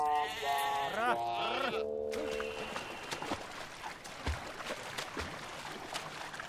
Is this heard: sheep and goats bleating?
yes